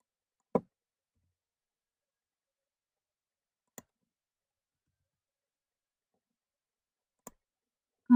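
Sparse computer mouse clicks: four isolated sharp taps spaced a few seconds apart in near silence, with the last click slightly louder.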